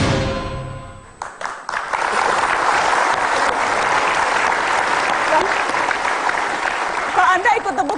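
A studio audience bursts into loud, sustained applause during a televised talk show about football, rising after a brief opening and holding strong to the end, with faint voices underneath.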